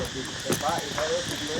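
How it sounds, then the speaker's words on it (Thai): Cicadas drone outdoors in a steady insect buzz, mid-distance and continuous, with a voice speaking over it. "เสียงแมงจักจันพี่น้องเลย"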